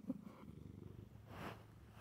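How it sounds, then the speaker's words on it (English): A stray cat purrs on a bitterly cold day, a soft, low continuous rumble heard close and quiet, with no talking. "He's purring away."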